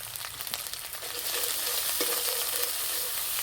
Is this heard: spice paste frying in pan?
yes